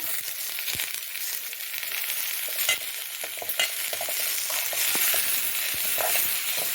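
Tomatoes sautéing in a pan with cinnamon, fennel and cardamom give off a loud, dense sizzle that runs without a break. Stirring sets off frequent scraping clicks and crackles on top of it.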